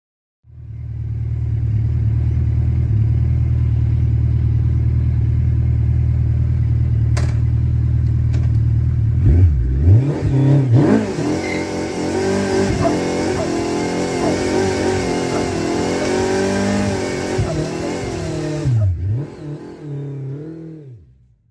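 A car fitted with a 1300cc four-cylinder Hayabusa motorcycle engine idles with a steady low drone, then revs hard in repeated rising and falling bursts, loud and close, with no talk.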